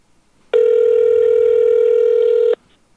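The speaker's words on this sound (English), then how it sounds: "it's Bob calling to bust my balls" A landline telephone rings with an incoming call, one loud, steady electronic tone lasting about two seconds before it cuts off abruptly, heard on its own with no talking.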